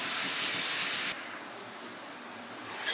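Spice masala dropped into hot oil for palak paneer, a loud bright sizzling hiss that cuts down abruptly to a softer steady fizz.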